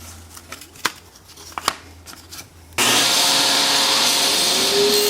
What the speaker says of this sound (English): here I'm cutting an extra groove in the rail and stile to give it more dimension